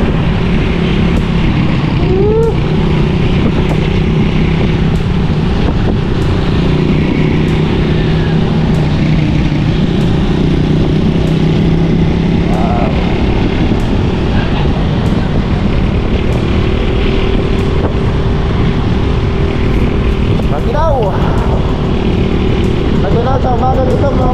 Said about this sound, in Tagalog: Dahil motor ni Paring Jason ay favorite yun